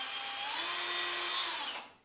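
A cordless drill with a small 2.5–3 mm bit bores into a wooden handle, a close, steady high whine lasting under two seconds before it quickly winds down.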